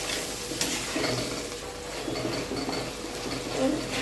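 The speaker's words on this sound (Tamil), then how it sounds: "தக்காளி நல்லா வதங்கட்டும்." Tomatoes sautéing in a pan for a spicy crab gravy, with a steady soft sizzle and occasional stirring scrapes close by, no talking.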